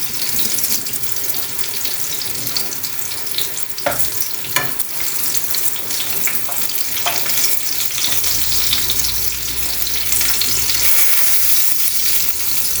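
Eggplant fries in hot oil for Filipino pritong talong, giving a steady, loud, broadband sizzle with a few sharp pops and spatters near the middle, close by and with no talk.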